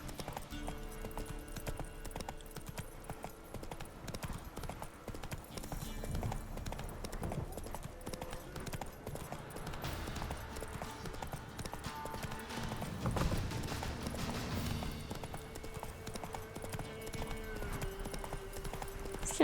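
A horse trots in The Witcher 3: Wild Hunt, its hooves making a steady, fairly quiet clip-clop over game sounds.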